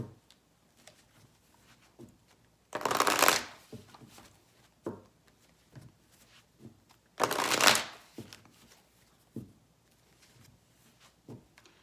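A deck of oracle cards is shuffled for a reading in two loud riffling bursts, each about a second long, with soft taps and card handling in the quiet gaps between.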